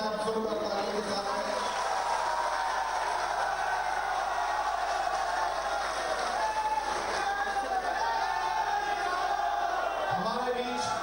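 A large outdoor crowd at a rally in Yamkeshwar greets Chief Minister Yogi Adityanath with a steady, far-off roar of cheering and shouting that holds at an even level throughout.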